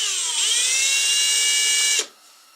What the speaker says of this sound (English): We'll put the drill on a little bit slower speed